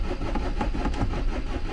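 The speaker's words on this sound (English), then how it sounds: "It's almost trying to fire. It's just going da-da-da-da-da." A van's engine cranks repeatedly without catching, almost firing, with smoke coming from the exhaust. A steady rapid chugging churn runs close and loud throughout with no voices.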